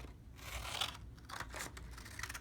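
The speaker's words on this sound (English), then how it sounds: "So now let's cut out a tongue." Scissors snip through construction paper, cutting out a paper snake's tongue, with a few quiet, close crisp cuts and crinkles in a hushed room.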